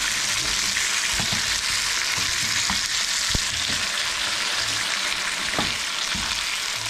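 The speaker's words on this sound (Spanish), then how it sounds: "ahí le echamos ya la salsa" Shrimp sizzle and fry steadily in a pan as salsa is poured in for camarones enchilados, a dense continuous crackle with a few sharp clicks of a utensil, heard up close with no talking.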